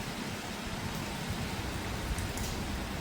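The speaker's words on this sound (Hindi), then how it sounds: "बारिश हो रही है बहुत ही ज़बरदस्त" Heavy downpour during a thunderstorm, a dense unbroken roar of rain drumming on surfaces, loud and steady throughout with no talking.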